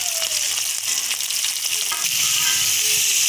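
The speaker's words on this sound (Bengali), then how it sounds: "এক পিস মাছ ভাজছে, কাঠের জালে রান্না," Hilsa fish frying in hot oil over a wood fire, a steady close sizzle with light crackles running throughout, no talking.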